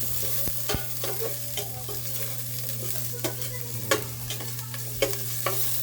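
Food is stirred in a cooking pan while fish is being cooked in a little oil for sinigang, with repeated scraping clicks of the utensil over a steady frying sizzle.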